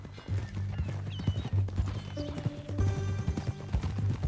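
Horse hooves clip-clopping in Red Dead Redemption 2, a rapid, close rhythmic clatter of steps over a low background score, with no speech.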